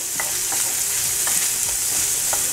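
Meat browning in a hot pan for a meat sauce, a continuous close sizzle broken by a few scraping stirs of a utensil, with no voices.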